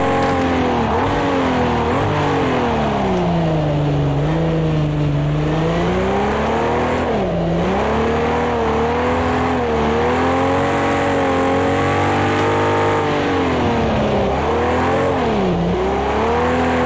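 In Project CARS 2, an E-Type Jaguar's engine races continuously and loudly, its pitch rising and falling through revs and gear changes, with no talk over it.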